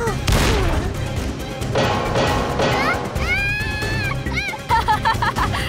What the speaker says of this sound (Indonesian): Namun seperti Elsa, tidak ada satupun tembakan yang mengenai sasaran